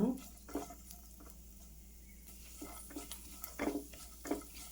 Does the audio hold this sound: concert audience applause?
no